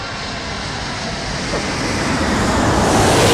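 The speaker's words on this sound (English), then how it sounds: "Qantas A380 about to touch down." A Qantas Airbus A380 comes in to land at Sydney Airport, a loud, broad roar of jet engines that grows steadily as the huge airliner nears, heard close by without speech.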